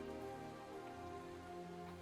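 Rain falls steadily in a fantasy video game, a faint, even patter on surfaces under a soft background drone, with no one talking.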